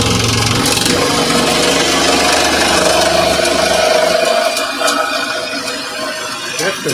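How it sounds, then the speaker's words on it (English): Rough sandpaper scraping across wood, a loud, dense, continuous rasping that runs steadily for several seconds, then eases and thins out toward the end. "That's some pretty rough sandpaper"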